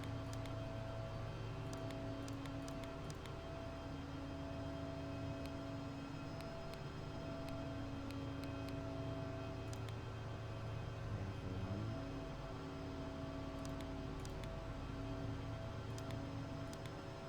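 A Learjet 45 jet taxiing, heard as a steady, even engine drone and whine that holds at a constant moderate level throughout with no talk.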